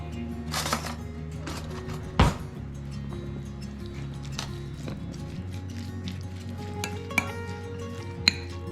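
Coleslaw dressing seasoned with pepper and salt is stirred in a bowl for a pastrami Reuben, giving soft scraping and swishing broken by a few sharp clinks of the utensil against the dish, with no talking.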